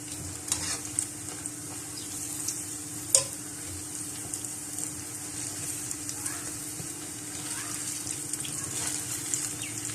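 Mash dal bhallay frying in hot oil as a spoon stirs them, a steady crackling sizzle with occasional clicks and one sharp clack of the spoon against the pan, close-up.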